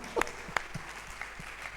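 A church congregation claps briefly, with a few scattered sharp claps over a quiet room.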